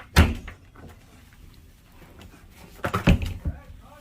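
Cabin drawers on a 2019 Carnival Panorama cruise ship sliding and knocking shut, a sharp thump at the start and a cluster of bumps and clacks near the end, with quiet room tone between.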